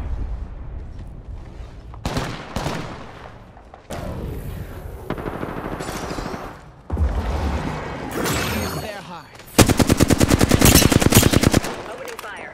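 Gunfire in the video game Apex Legends, bursts of rapid automatic shots and single heavy reports, ending in a sustained loud machine-gun stream, close and punchy.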